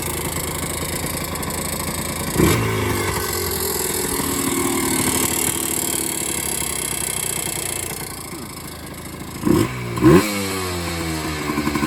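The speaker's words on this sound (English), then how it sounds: "It sounds like piston chatter." A small Yamaha Blaster ATV engine runs steadily with a rattling, ticking piston chatter, a couple of brief revs punctuating the continuous mechanical drone.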